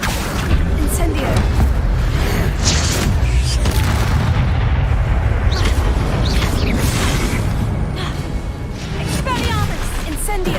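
Incendio fire spells bursting repeatedly during combat in Hogwarts Legacy, loud booming blasts layered over continuous battle noise with speech running throughout.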